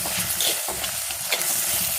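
Onions frying in oil in a claypot while being stirred, a close, steady sizzling hiss broken by rhythmic scraping strokes of a spoon.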